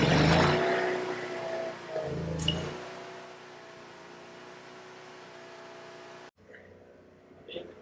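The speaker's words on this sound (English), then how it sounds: "So first thing we do is start the generator." A generator powering a poly-lift cement lifting rig starts with a loud burst, then settles into a steady drone that runs for several seconds before cutting off abruptly, with faint sounds afterward.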